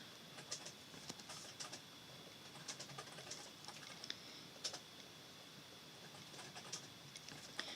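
Faint, irregular clicking of a computer keyboard being typed on in another part of a home, scattered soft ticks running steadily through a quiet room background.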